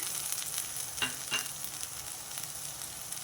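Onions with turmeric and ginger-garlic paste sizzling steadily in a pan for palak paneer, a continuous close frying hiss with a couple of brief utensil scrapes and no talk.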